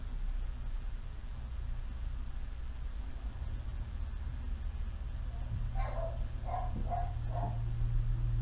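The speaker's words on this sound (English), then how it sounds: "It's my dog barking." A dog barks four short, quick times somewhere away from a home kitchen where pancakes are being made, the barks fairly faint over a steady background hum.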